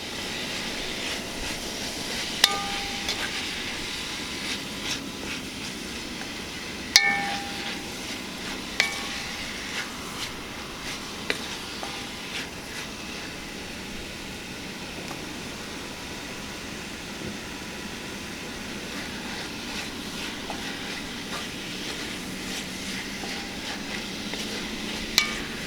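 Chili seasoning mix browning in a hot pan, a steady, broad frying sizzle running for about twenty-five seconds, broken now and then by light clicks and scrapes of a utensil stirring.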